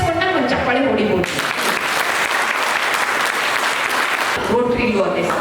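Loud, sustained applause fills the hall at a Rotary Club installation ceremony in Magadi, preceded and followed briefly by someone speaking.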